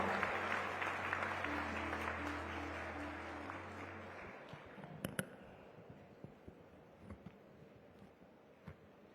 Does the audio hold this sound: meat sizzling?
no